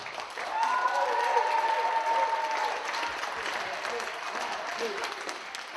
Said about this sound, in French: J'aimerais un grand coup d'applaudissement pour l'équipe des Manigam